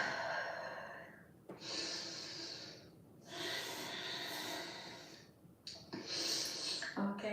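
Heavy, drawn-out breaths during a held yoga pose, several long inhale-exhale cycles close and fairly loud, with no talking.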